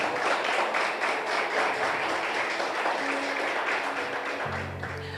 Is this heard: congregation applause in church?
yes